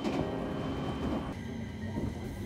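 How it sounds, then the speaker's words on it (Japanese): Train arriving at Omagari station in Japan: a continuous rumble of running wheels, with a slight change in tone partway through and no talking. "列車は大曲駅に到着です。"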